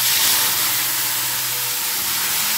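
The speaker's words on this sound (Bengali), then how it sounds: "কড়াইটা গরম হয়ে গেছে, এবার মাছগুলো ছেড়ে দেবো।" Fish hits a hot oiled kadai in a Bengali home kitchen, setting off a loud, dense, continuous sizzling hiss that fills the whole moment, close up and without talk.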